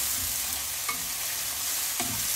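Chicken afritada with onions and tomatoes sizzling in a pan, stirred with a couple of distinct utensil scrapes against the pan over a steady frying hiss, close up with no talking.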